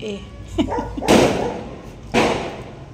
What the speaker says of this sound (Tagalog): Lalakas ng paputok no, gugulat kayo no.